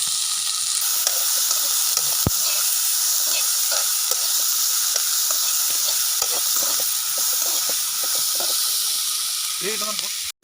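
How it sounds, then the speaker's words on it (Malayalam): Onions sizzle steadily in hot oil in a pan for Kerala-style tapioca dish prep, a continuous close frying hiss with occasional stirring scrapes and a brief clatter near the end. "അത്യാവശ്യം സവാള ഇട്ട് കൊടുക്കാം."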